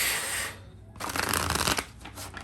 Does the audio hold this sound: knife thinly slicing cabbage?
no